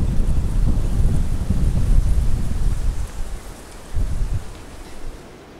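Strong wind blows by the water at a spot where crucian carp are being fished, buffeting the microphone in loud low rumbling gusts that ease off after a few seconds, then surge briefly once more.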